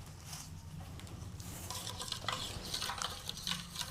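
Two spoons of neem oil are added to a homemade bedbug-remedy mixture, giving soft, close scraping and stirring sounds with faint clinks, quiet and continuous.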